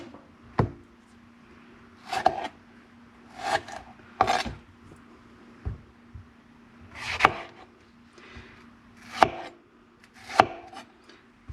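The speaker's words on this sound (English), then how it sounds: "I chop the tomatoes in half" A knife cuts tomatoes in half on a board for homemade salsa, giving about eight separate, sharp chopping strokes at an uneven pace. The cuts are close and moderately loud, with a low steady hum beneath them and no talking.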